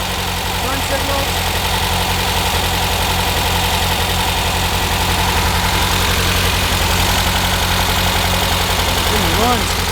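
A 2010 assembled street-legal sand rail buggy idles steadily, its engine giving a loud, even, throbbing rumble that holds constant for the full stretch while someone talks over it.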